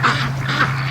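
Free-range ducks quack loudly and close by, two rough nasal calls in quick succession over a steady low hum.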